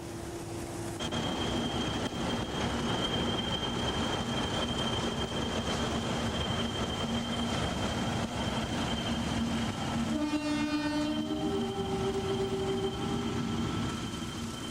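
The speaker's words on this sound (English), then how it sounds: "They were the most powerful passenger locomotives on British Rail." English Electric 3,300 horsepower diesel passenger locomotive on British Rail, loud and close with a steady engine roar and rail rumble throughout, then a two-tone horn sounds near the end.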